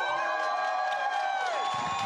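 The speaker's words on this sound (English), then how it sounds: "Big round of applause for Lukas Schaff" A graduation ceremony audience cheers loudly for a top student, with sustained voiced whoops and shouting from many people over scattered clapping, continuous for the whole stretch.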